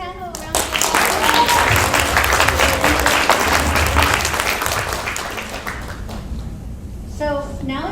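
Audience applause at a Hawaii school library conference, honoring a panel: dense clapping fills the room from the start and holds steady, easing slightly toward the end as a voice returns.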